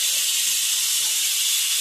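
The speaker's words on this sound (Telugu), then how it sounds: "1 విజిల్ అయితే వచ్చిందండి" A pressure cooker vents steam, a loud, steady, airy hiss held without a break, close by and with no voices.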